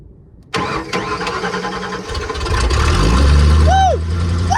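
A 1992-97 Ford F150 pickup cranks and fires up after a manual transmission swap, a brief starter whine then the engine catching and settling into a loud, steady idle, with a short squeaky tonal sweep near the end.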